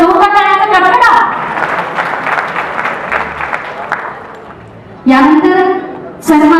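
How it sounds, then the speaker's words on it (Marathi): Loud audience applause rises at an award ceremony, a sustained clapping crowd filling the hall between stretches of a compère's amplified announcements at the start and end. "एकदा जोरदार टाळ्यांचा कडकडाट."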